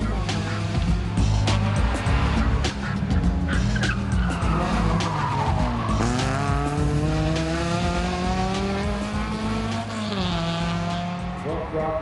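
A Renault Clio rally car races up a mountain hill climb near Rahovets and Lyaskovets, engine revving hard through gear changes with tyres squealing and skidding, loud and close throughout.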